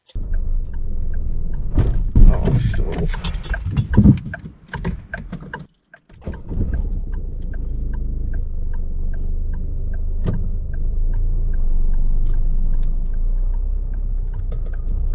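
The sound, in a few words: car stalling on a hill start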